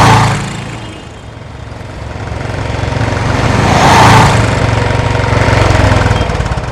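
A vehicle engine idling while parked in a no-parking spot, a loud, steady rumble that swells and eases slightly, heard close with no clear speech.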